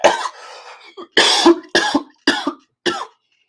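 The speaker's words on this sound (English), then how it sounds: "I did not rehearse that cough" Series of loud, harsh coughs from a man, about five or six bursts in quick succession, close and dry, with brief gaps between them.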